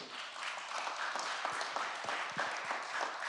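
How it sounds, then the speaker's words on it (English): Audience applause after a youth team's pitch at a youth action challenge, a soft, distant wash of many hands clapping continuously and evenly. "let's give them a round of applause"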